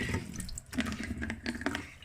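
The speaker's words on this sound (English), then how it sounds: "I'm just continuing to let that run" Tap water runs steadily over thick sun print paper being rinsed in a sink, a close, continuous splashing wash with small shifting bursts.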